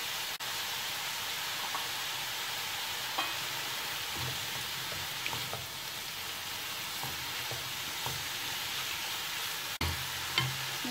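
Capsicum goes into carrots and other vegetables stir-frying in a pan for restaurant-style chicken fried rice, a soft continuous hiss and sizzle with occasional clinks and stirring knocks.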